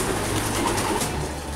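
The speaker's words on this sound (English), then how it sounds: "Now you can hear lots of fucking pigeons again." Pigeons coo softly in a muffled, echoing space inside abandoned Gartloch Hospital, Scotland, several low throaty calls overlapping against a noisy background.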